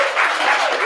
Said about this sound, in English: Extra applause for everybody.